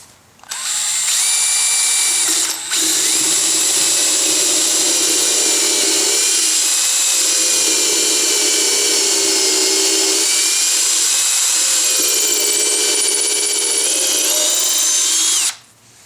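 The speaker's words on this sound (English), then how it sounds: "I think I'd be wise to drill it out." A drill spins up fast and runs steadily, boring out a transfer punch mark in steel for a welded Roubo workbench support, making a loud, sustained high-pitched whine close by for about fifteen seconds.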